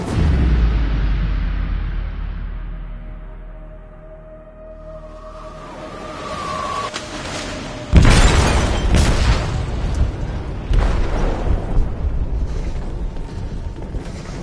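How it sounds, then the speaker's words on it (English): An explosive goes off in a ship's hold in Detroit Become Human, a heavy boom followed by rumbling debris, metallic groans and crashing bursts that keep roaring loudly for several seconds. "They detonated an explosive in the hold."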